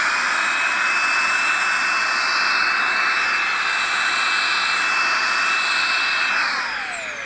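A Makita 40V XGT GSA01 cordless dust blower blasts metal shavings with a loud, steady high-pitched jet-like whine and rushing air, held for about six seconds before winding down at the end.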